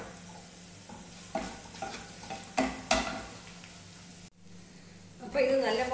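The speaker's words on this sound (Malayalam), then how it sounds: "അപ്പോൾ ഇത് നല്ലപോലെ വഴറ്റിയെടുക്കാം." Carrots for carrot 65 being stirred and sautéed in a pan in an Indian kitchen: a soft continuous sizzle broken by scraping stirring strokes, with a louder burst of frying near the end.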